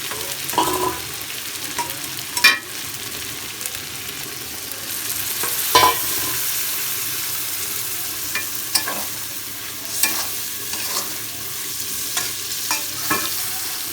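Spices sizzle softly in a pan as a utensil stirs and scrapes them in irregular knocks and clinks over a steady frying hiss, with no voices.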